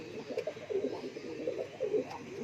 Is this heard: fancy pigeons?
yes